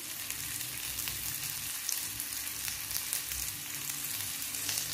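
Onion and garlic fry in hot mustard oil in a pan where mackerel was just fried, a steady close crackling sizzle that holds evenly throughout with no talking.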